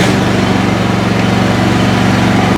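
A Razorback ride-on mower engine running loud and close after starting on the ignition with choke on, a steady low throbbing drone that holds without a break.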